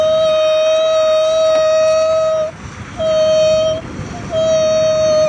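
A voice imitates a mosquito buzzing in a thin, sustained, reedy hum, three long drawn-out tones separated by brief breaths, close and loud.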